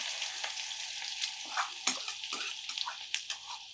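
Chopped onion drops onto cumin in a hot pan, hissing in a bright steady sizzle broken by scattered crackles and stirring clinks, close and alone.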